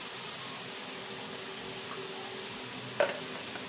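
Spices and potatoes for aloo matar curry frying in a pan, a steady close sizzle with faint stirring and one brief clink near the end.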